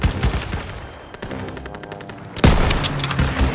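Gunfire in the Call of Duty: WWII campaign, dense rapid bursts of automatic fire crackling continuously at close range, with a heavier burst of shots near the end.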